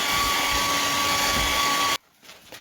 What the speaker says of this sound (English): Let's hit this with the dryer.